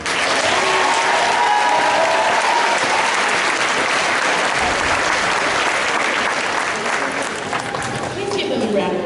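Sustained audience applause at a middle school graduation ceremony fills the room in a loud, steady wash of many hands clapping, and a voice speaks faintly near the end.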